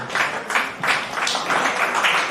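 Audience applause at a Hindi poetry festival in Palam, Delhi, a fairly loud, steady wash of clapping with slight surges, no voices over it.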